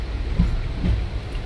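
Inside a Kanchan Kanya express train pulling into Bagdogra station, a low, rumbling carriage drone carries a couple of soft wheel thumps, close and steady.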